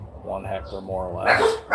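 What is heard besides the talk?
dogs barking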